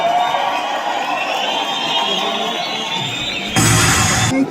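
A crowd cheers and shouts loudly at a fight night event in Ethiopia's Adwa Museum, with a sharp surge of noise near the end.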